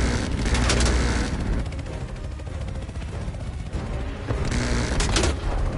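Gunfire from Call of Duty Black Ops Cold War rattles on continuously in loud, chaotic bursts, with heavier booms rising at the start and end and no speech.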